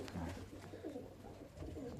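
Pigeons coo and murmur inside a loft housing breeding pairs, their soft rolling calls repeating steadily at close range with no talk over them.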